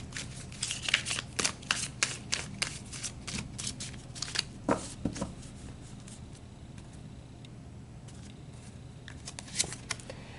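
A deck of oracle cards is shuffled by hand, giving rapid, crisp riffling flutters and slaps in close, uneven bursts that gradually thin out into quieter handling.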